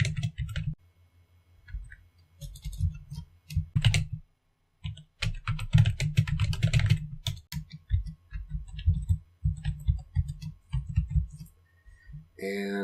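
Fingers type on a computer keyboard entering sign-up details and a password, bursts of quick clicking keystrokes broken by short pauses, with someone talking intermittently over them.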